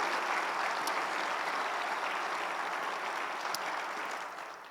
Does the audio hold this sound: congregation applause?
yes